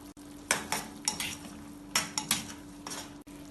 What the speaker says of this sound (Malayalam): ആവശ്യത്തിന് ഉപ്പ് ചേർത്ത് മിക്സ് ചെയ്യാം